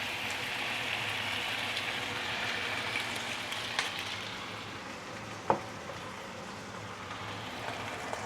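Shaoxing wine hits a hot wok with a fish head, giving a continuous close, bright sizzle and crackle with a single sharp clink partway through.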